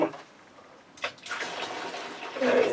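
Boiling water is poured for home brewing, a close splashing pour that starts abruptly after a short pause, runs steadily and grows fuller toward the end, with a brief voice at the start.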